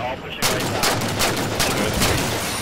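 Rapid, loud gunfire from a Halo multiplayer match, a dense stream of overlapping shots that starts abruptly and runs unbroken for a couple of seconds, close and dominant.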